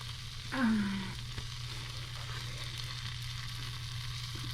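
An egg fries in a pan just after being flipped, a low steady sizzle with a brief louder swell and a short descending squeak near the start, no one speaking.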